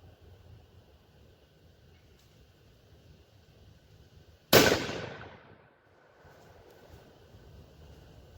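A single loud rifle shot from a Ruger American Ranch in 6.5 Grendel cracks sharply outdoors, its report decaying over about a second into a quiet background with faint wind.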